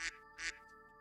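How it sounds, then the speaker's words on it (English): Two short, bright duck quacks ring out one after the other, fairly faint and set over a quiet background hum. "We follow the duck sound."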